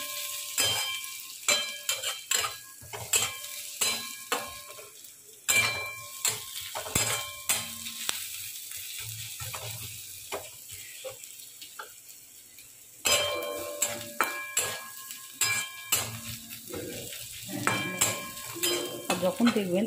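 Chopped onions frying in a generous amount of oil in a pan for onion dal, with frequent clinking metal spoon strikes against the pan over a soft steady sizzle, close up and without speech.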